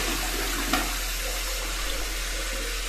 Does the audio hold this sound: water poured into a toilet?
yes